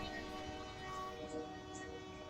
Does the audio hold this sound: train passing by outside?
yes